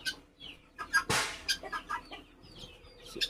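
Several chickens clucking and squawking nearby in short irregular bursts, with a brief flurry of rustling or wing flapping.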